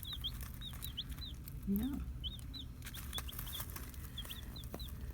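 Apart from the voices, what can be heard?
chicks clucking in a brooder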